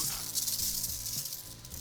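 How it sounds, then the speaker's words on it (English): A steady, close hiss of sealer being sprayed onto a new plaster wall, continuous and even throughout with slight pulsing. "I spray the wall down to the cove"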